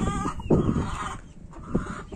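Hens clucking and murmuring in a farmyard coop, several soft calls at close range with a short louder burst in the middle.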